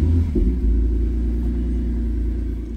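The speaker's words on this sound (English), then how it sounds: "this Camry does have a Magnaflow 19411 for the V6. And so it is gonna sound pretty beefy" A 2018-2024 Toyota Camry V6 with a Magnaflow 19411 exhaust rumbles deeply at close range, a steady low throb with a slight blip early on and no voices.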